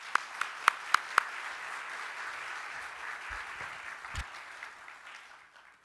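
Conference audience applauding to welcome a speaker, a few loud near claps at the start, then a broad steady wash of clapping that fades toward the end.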